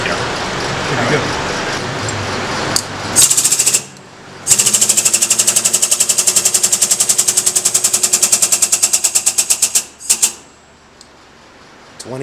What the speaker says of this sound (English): 20-ton hydraulic bender